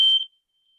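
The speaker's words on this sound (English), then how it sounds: "Oh, is that your smoke alarm?" A smoke alarm gives a single piercing high electronic chirp, loud and brief, cutting off abruptly into silence.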